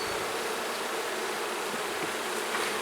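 Dense, steady swarm of honeybees buzzing around a hive, a continuous close hum without pauses and with no voices.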